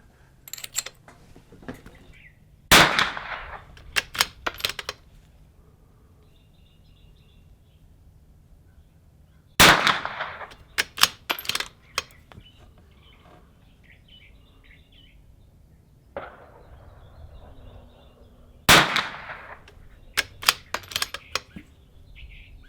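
Rifle shots ring out at a shooting range with Eley Club ammunition in a 455. Three sharp, loud cracks come roughly seven to nine seconds apart, each trailed by clatter and handling noise, with quieter stretches between them.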